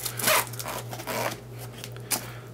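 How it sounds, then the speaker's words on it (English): Zipper with a paracord pull on a Maxpedition Jumbo Versipack Type S shoulder bag, drawn in a few quick, close rasping strokes with a brief final tug, over a steady low hum. "all the zippers have paracord pulls on them"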